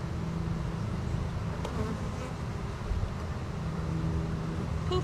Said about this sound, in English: These bees this year.